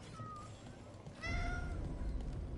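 Cat meowing in the video game Dragon Age: The Veilguard, two short, thin meows over a steady busy ambient game bed, moderately near.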